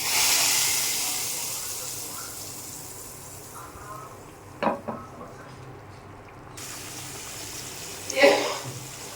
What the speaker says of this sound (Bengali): এখন এই তেলটা দিয়ে দিলাম।